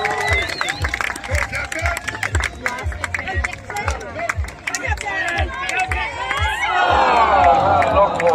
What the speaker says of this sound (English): Come on, clap him in, let's go!